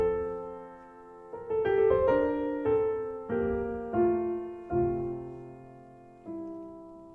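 The opening bars of a Beethoven piano sonata: slow, sustained chords, each struck firmly and left to ring, building in a stately, measured rhythm without any voices.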